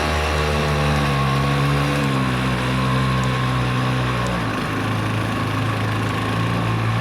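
A Jet Turbo engine on a motorized bicycle, fitted with a silencer, runs at full throttle. It gives a steady, loud, buzzing drone close by, with a slight pitch shift partway through and no talking.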